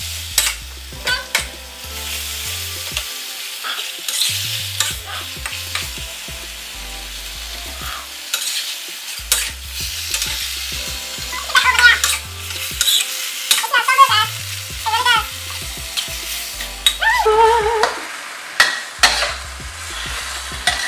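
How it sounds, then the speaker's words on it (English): Vegan pad kee mao drunken noodles are stir-fried and tossed in a hot pan, a continuous sizzle broken by repeated scraping and stirring strokes and the clink of a utensil against metal, close and fairly loud. "Kind of separate the noodles and toss it as you go"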